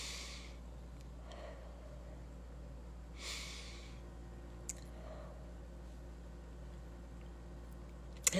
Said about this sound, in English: let's take 3 deep breaths if we could